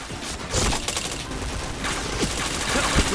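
Rapid bursts of video game gunfire crackle through a live-streamed shooter match, dense and loud from start to end with a few sharper single shots near the close.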